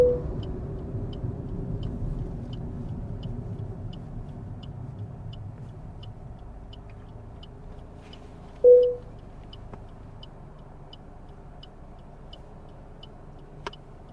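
Car engine rumbling steadily from inside during a driving test lesson, with faint regular indicator ticks while waiting to turn right at traffic lights, a brief sharp sound midway.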